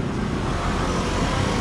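A bus passes on a Macau street, its broad engine rumble and road noise steady and close throughout amid general traffic.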